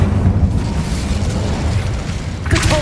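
An Incendio fire spell blasts in Hogwarts Legacy with a loud, rumbling boom that sustains as a roaring burst, then a fresh crackling flare near the end.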